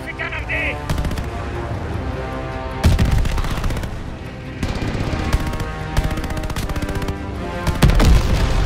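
Heavy, dense gunfire in the Midway mission of Call of Duty Vanguard on Xbox Series S, with repeated loud bursts and booming impacts layered over a continuous music and battle bed.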